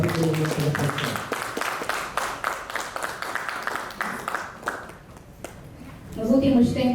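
An audience at a talk on labour law applauds to welcome a speaker, a dense wash of clapping that holds steady, then thins out and fades before a voice begins.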